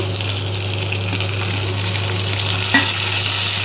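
Chopped tomatoes and green chillies go into onions that have fried until red, giving a steady close sizzle and hiss of frying for an egg kheema masala, with a brief stir-like clatter near the end.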